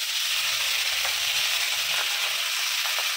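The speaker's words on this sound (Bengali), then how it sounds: "আর ওইদিকে মাছ ভাজা হচ্ছে" Fish frying in a pan for a home-cooked Bengali meal, giving a steady, dense sizzle with faint crackles that runs close and continuous throughout, with no talking.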